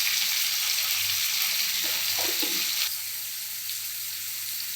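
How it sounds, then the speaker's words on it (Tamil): Onions and tomatoes sautéing in a pan for bottle gourd chutney give a steady broadband sizzle, with a brief burst of stirring or scraping near the middle, then a slightly quieter, even hiss with no talking. "தக்காளி வெங்காயம் நல்லா வதங்கிடுச்சு"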